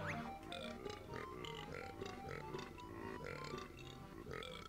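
A cartoonish belching sound from a hippo pirate character in the video game Banjo-Kazooie, repeated in a series of gurgling grunts over game music at low volume.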